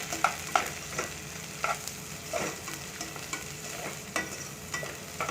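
Sliced small tomatoes frying in a masala pan for a potato and pea curry, a soft steady sizzle broken by intermittent stirring scrapes and clicks, close and fairly quiet.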